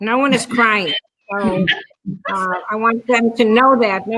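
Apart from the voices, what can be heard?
None of the usual background noises is heard.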